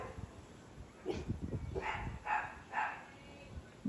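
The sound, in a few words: dog barking threateningly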